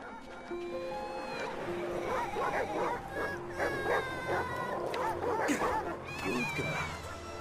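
A dog barks and yelps in the video game Valiant Hearts, mixed with busy game music and other in-game sounds throughout.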